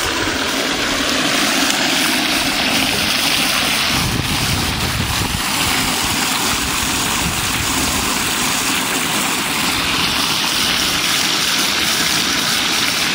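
A 12-volt bilge pump runs outdoors pushing water through a solar-powered gold sluice, producing a loud, steady droning rush of water and motor hum with no pauses.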